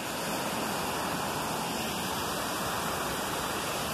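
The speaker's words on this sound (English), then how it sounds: "This is one at waterfalls here." A small waterfall on the Elsecar to Hemingfield canal in Barnsley, giving a steady, loud, broadband rush of falling water with no talk.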